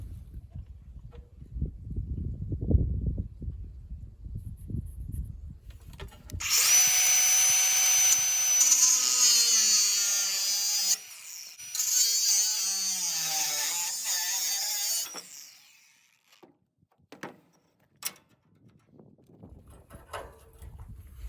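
Power drill cutting holes in a metal piece for a trailer repair, two loud sustained bursts of whining, grinding drilling separated by a brief pause, with clanks and handling noise before and after.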